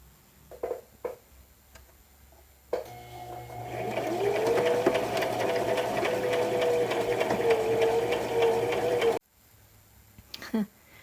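A sewing machine runs steadily for several seconds with a fast mechanical whir and rattle, starting and stopping abruptly amid quiet handling sounds.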